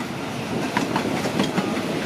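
A passenger train passes nearby at a Bangkok station, wheels clattering over rail joints in a steady clickety-clack rhythm above a low rumble, with no voices.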